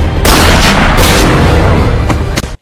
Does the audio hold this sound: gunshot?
yes